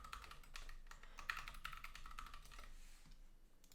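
A password is typed on a computer keyboard as quick, quiet, irregular key clicks close by, with no talking.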